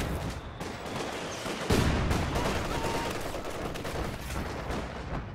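Mortar pit returning fire in the Company of Heroes 2 battlefield, one heavy thump amid ongoing dense gunfire and distant battle noise throughout.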